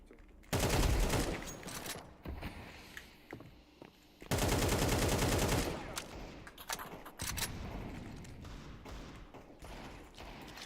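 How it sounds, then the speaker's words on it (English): Gunfire in Counter-Strike, with two long bursts of loud automatic fire separated by scattered shots, thuds and taps, then softer intermittent shooting continuing in the background. "Throw in the flashbang."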